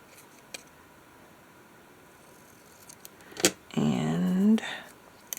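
Paper cut with scissors for a collage, a single short snipping pass close by, heard after a few faint clicks in an otherwise quiet room.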